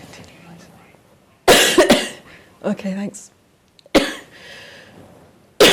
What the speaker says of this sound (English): Oh dear, I'm coughing.